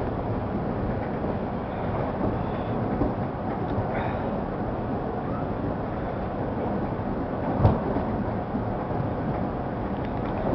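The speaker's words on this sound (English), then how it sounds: "Today there's another westbound train." A westbound subway train passes with a continuous rumbling, clattering roar and a brief sharp clank partway through, fairly close and loud.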